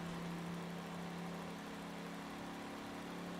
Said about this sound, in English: This fucking car sounds like a motorcycle.